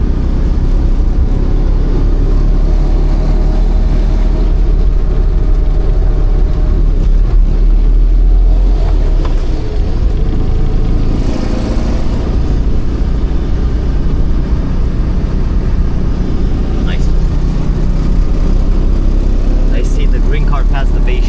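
A car drives through Italian streets with a steady, loud, low engine hum and road rumble throughout, and voices talk over it.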